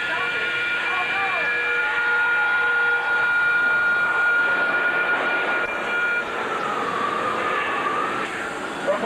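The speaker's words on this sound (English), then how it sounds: "that sounds like a subway car." A Universal Studios tram ride's rushing subway-car effect: a loud, steady rumbling roar with shrill whistle-like tones sustained throughout, voices faintly mixed in.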